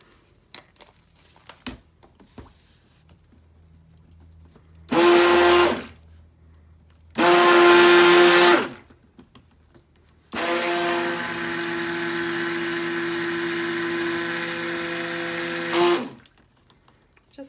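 Electric mixer whirring through a bowl of soft oils with colloidal oatmeal and kaolin clay for soap, three loud bursts, two short and one long steady run, with quiet gaps between.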